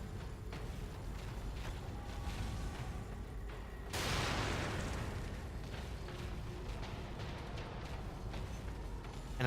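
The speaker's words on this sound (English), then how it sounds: "I'm using those grenades to give him some damage" Grenade blasts in the video game The Evil Within: a sudden broad burst of explosion noise rises over a constant dense rumble of game sound and fades into a steady wash.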